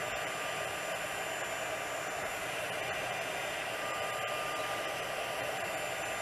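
Embossing heat tool running for crafting, a steady continuous airy blowing hiss like a small hair dryer, constant level throughout with no talk.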